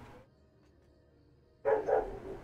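A neighbor's dog barks suddenly, a short loud burst of two or three barks after a stretch of near silence.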